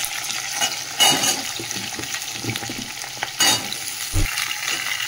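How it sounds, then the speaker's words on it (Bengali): Onion and chopped vegetables fry together in a pan with a steady sizzle, broken by several louder scrapes and clatters of a spoon stirring against the metal. "সবজি পেঁয়াজ একসাথেই ভাজা হয়ে যাবে"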